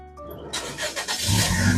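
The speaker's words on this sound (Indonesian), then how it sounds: "Sekarang kita coba langsung nyalakan mobil." A 2016 Toyota Kijang Innova Reborn 2.0 V automatic starts up: a short starter crank catches into a loud engine firing, then settles into a steady, close idle.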